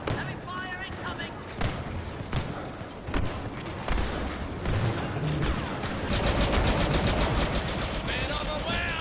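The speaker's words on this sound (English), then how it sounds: "Heavy fire incoming." Heavy, continuous blaster and gunfire from the Star Wars Battlefront 2 video game, loud and chaotic with thuds and impacts, while voices talk over the barrage.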